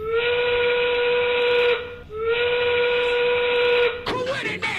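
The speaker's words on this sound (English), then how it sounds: "The 5 o'clock whistle" The 5 o'clock whistle, a loud steady steam whistle, blows twice in long sustained blasts with a short gap between them, then ends in a burst of hissing steam.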